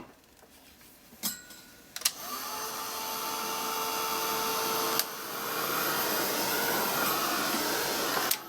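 A heat gun drying a painted frame switches on with a click and blows a steady, loud whooshing hiss that holds for several seconds, broken by a few sharp clicks and handling knocks.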